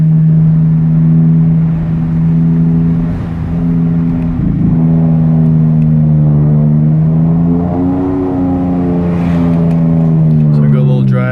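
A 2012 Dodge Charger SXT with a 3.6L V6, Magnaflow exhaust and K&N intake, shifted by paddle shifters in sport mode, holding a steady loud engine drone that climbs and falls in pitch as the revs change, with no break.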